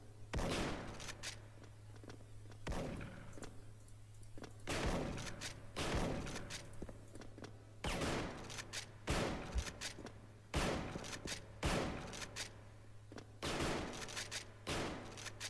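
Gunfire in the online shooter Special Force during a sniper tournament match underground: repeated loud, sharp shots in irregular clusters over a steady low background hum, with no talking.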